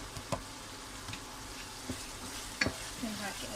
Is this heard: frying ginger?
yes